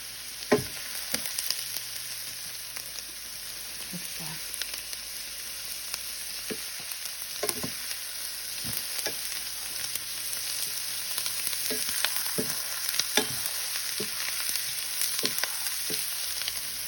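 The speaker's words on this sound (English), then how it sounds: "you want the onions to cook until they're translucent" Onions and peppers fry in a pan for chicken bog, giving a steady broadband sizzle with scattered clicks and scrapes of stirring throughout, moderately close and with no voices.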